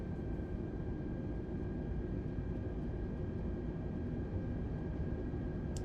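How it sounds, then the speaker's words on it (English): Airliner jet engines on a Delta flight from Charlotte to Fort Wayne spool up to takeoff thrust, a loud, steady, dense cabin roar with a faint high whine held throughout, no voices. "And take off thrust."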